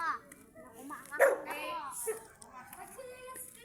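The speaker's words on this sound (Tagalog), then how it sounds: "someone's dog is woofling" A dog barks and yips a few times in short bursts, mixed with children's voices talking nearby, moderately close.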